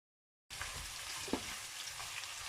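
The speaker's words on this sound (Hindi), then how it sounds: "ऑयल हमारा गर्म हो गया। अब हम इसके अंदर डालते हैं प्याज।" Chopped onion sizzles in hot oil for a potato, pea and carrot vegetable dish, a steady close frying crackle starting abruptly with a brief pop partway through.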